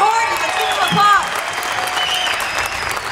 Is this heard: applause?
yes